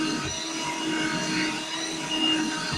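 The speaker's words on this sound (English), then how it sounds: "she will now demonstrate on full power how quick and simple the hoover will pick up the cracker parts" Hoover Jovis wet/dry compact vacuum running on full power while picking up cracker crumbs, a steady close-up whirring motor drone with slight shifts in pitch as it moves, with no talk over it.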